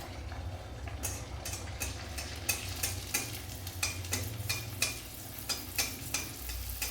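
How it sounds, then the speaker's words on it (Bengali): Golgappa puris fry in hot oil with a bright continuous sizzle, while a ladle taps and splashes at a regular rhythm close up, and no one speaks. "একটু লালচে লালচে করে ভেজে নিতে হবে"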